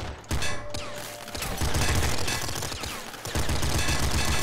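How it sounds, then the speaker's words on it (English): A frost double machine gun in the video game Nuclear Throne fires rapid bursts of shots, loud and close, with brief gaps between volleys and no talk. "Let's make a frost double machine gun."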